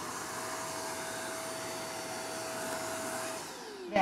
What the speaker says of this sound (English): I have a little gem micro vacuum right next to me